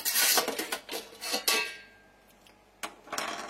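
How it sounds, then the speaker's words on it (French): A metal cooking basket clanks and rattles as it is set into a Soup & Co cooking pot, giving a few close, sharp metallic knocks separated by short quiet gaps. "Ensuite, on place le panier cuisson"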